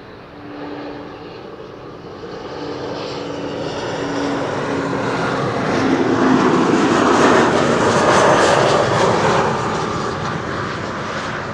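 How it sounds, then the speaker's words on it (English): A Vueling Airbus A320neo comes in to land, its jet engines roaring loud and steady for several seconds, swelling as it passes near and then holding strong without a break. "Vueling A320neo, arriving from Alicante"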